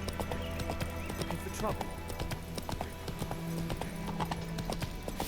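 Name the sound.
horse Roach galloping hooves in Witcher 3 video game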